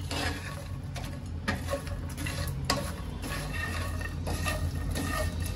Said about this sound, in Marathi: आता मखाणे सगळे ह्याच्या बरोबर मिक्स करून घेते मी